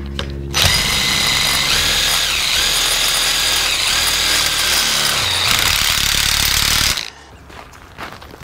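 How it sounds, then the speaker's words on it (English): Power drill driving tech screws into a metal gate frame, a loud sustained whine with shifting pitch for several seconds before stopping abruptly, followed by quieter background noise. "The collars take two tech screws, each just drilled straight into the frame."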